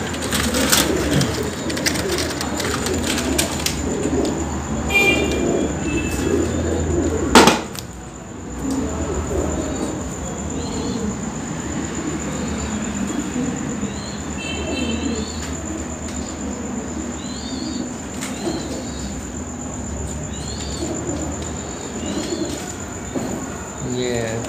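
Teddy breed pigeons give soft, repeated coos throughout, with a sharp knock early on and people talking nearby.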